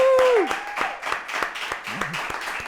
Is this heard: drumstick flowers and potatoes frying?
no